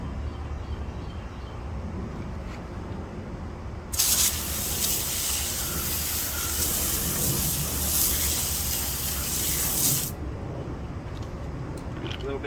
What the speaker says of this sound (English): So now we're going to use just the hose.